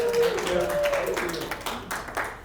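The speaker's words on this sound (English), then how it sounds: "A round of applause for Javon." Audience applause in a classroom-style talk on cryptocurrency basics, a short burst of scattered clapping that fades out quickly, with a voice heard over it.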